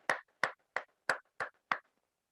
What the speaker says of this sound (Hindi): अब हम लोग जोरदार तालियों से इनवाइट करना चाहते हैं हमारे आदर्श और ग्रेट मेंटर को, मिस्टर रविंद्र गजोला सर।